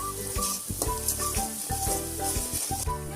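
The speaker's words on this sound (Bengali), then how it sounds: "এরপর হলুদ গুঁড়ো দিয়ে দিচ্ছি। পর এটা কিছুক্ষণ ভেজে নিয়েছি।" Onions frying in oil with turmeric for a breakfast dish, a steady sizzle broken by rhythmic scraping and knocks of a spatula stirring in the pan, with no talking.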